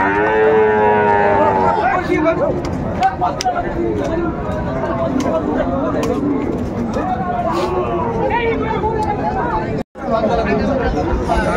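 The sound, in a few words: Sahiwal bull lowing at cattle market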